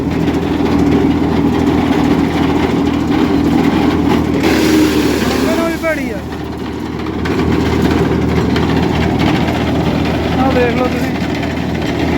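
A tractor-driven tree-cutting machine runs with a loud, steady engine drone and low hum throughout, a brief swishing sweep rising in the middle, and people talking over it.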